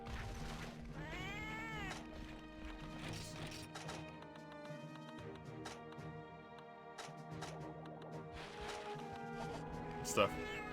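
A Felyne cat companion in Monster Hunter Freedom Unite meows repeatedly in short rising calls over busy game music and effects, fairly faint in the mix.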